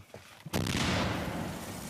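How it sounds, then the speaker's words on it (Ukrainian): A few faint thumps, then a single loud, close artillery gun blast near Pokrovsk, Ukraine, that booms and slowly rumbles away. "Гармата! Постріл!"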